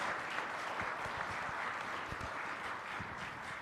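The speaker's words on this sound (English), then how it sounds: "let's do a round of applause for all of you for support and the kids for taking time to serve and for sharing." A church congregation applauds during a service, a faint, distant, steady patter of many hands clapping throughout.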